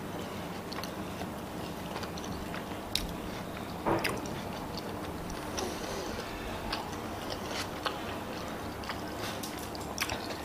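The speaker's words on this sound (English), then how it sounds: "I need to chew." Someone chewing a bite of Domino's tuna pizza topped with pineapple and cheese, a soft, close, steady mastication with small ticks and squishes and one louder bite near the middle, no talking.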